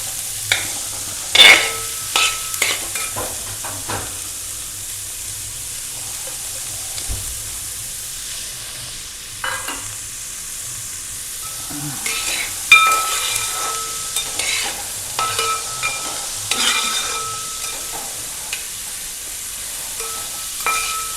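Sliced onions frying in a pan for an egg thoran, with soft sizzling and steam under repeated scraping stirs of a spoon at close range, with no talking.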